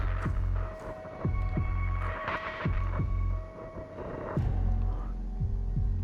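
Heartbeat sensor pulsing in the video game Warzone 2, a steady series of low thumping pulses repeating roughly every half second over a droning hum, loud and close, with no talking.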